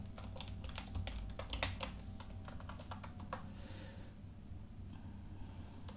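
Someone types a password on a computer keyboard, giving quick, close, quiet keystrokes in uneven bursts that thin out toward the end.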